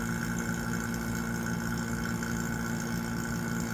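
A vacuum pump hums and runs steadily during a valve leak test on an engine, a constant close mechanical drone with an even buzzing tone and no pauses.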